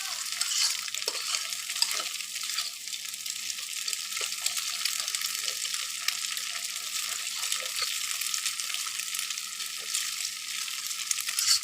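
Egg scrambles with onions in a hot frying pan, giving a steady, even sizzle with soft scraping from stirring throughout and no voices.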